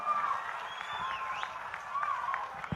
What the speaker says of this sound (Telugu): భగీరథుడికి మరొకసారి గట్టిగా చప్పట్లతో అభిమానంగా తెలియజేయాలి